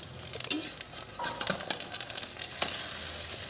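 Egg frying in a pan with a steady close sizzle, plus scraping and clinking from a spatula as it is stirred and flipped, alone without talk.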